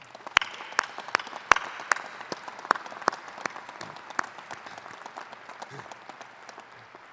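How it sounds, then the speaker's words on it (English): Graduates at a law school commencement applaud: a faint, steady patter of many hands in a large hall, with a few sharp nearby claps standing out, gradually thinning over several seconds. "give yourselves a big round of applause"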